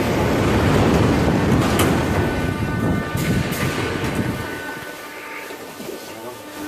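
Loud, steady roar of a metro train heard from inside a moving car, with rumbling low-end noise and rattling that eases slightly toward the end.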